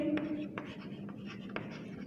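A pen or pencil writes a number name by hand on paper, giving soft scratchy strokes with a few sharper taps, quiet and close, under faint room tone.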